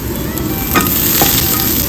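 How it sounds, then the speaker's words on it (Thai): Garlic stir-fried in hot oil in a wok for shrimp with chili paste, a steady loud sizzle with a couple of brief scraping stir strokes, close by and without voices. "ริ่มผัดกันนะน้ำมันลงกระเทียมตาม"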